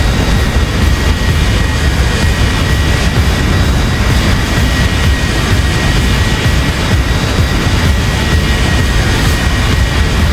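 Jet engines of a Zibo Boeing 737-900 in the X-Plane flight simulator, a loud continuous roar with a steady low rumble and a faint high whine, unbroken and with no talk.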